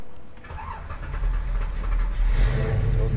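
A classic Ford Mustang engine rumbles steadily while being driven, a low, continuous drone that swells slightly louder toward the end, with no talking over it.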